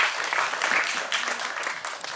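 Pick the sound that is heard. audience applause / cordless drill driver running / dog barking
audience applause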